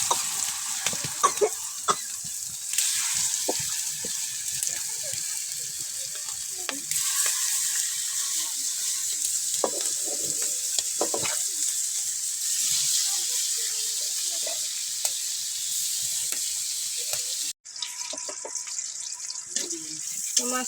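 A wok sizzles steadily with onions and green chilies as pangas fish is cooked down, with intermittent stirring scrapes and a brief cut-out near the end.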